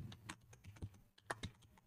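Quiet, close keystrokes on a computer keyboard, an irregular patter of taps with a couple of firmer presses toward the end.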